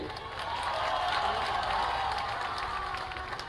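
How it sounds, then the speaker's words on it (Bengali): A live audience in a hall claps together in a steady, fairly loud wash of applause that holds for a few seconds without letting up. "এরম হাততালি দিলে হবে না"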